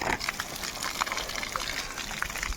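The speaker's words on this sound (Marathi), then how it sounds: "पाणी मारतोय" Water sprayed onto a concrete slab at a house under construction, a continuous splashing gush with small irregular spatters, close and steady for a few seconds.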